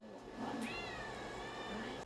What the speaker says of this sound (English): Kittens tumbling over one another, senior cats curled up in quiet corners.